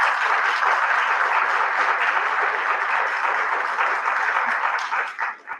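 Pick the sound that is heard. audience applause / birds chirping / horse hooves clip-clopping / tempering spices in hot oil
audience applause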